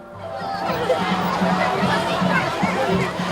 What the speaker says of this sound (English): It was not so long before a huge crowd formed to welcome the caravan.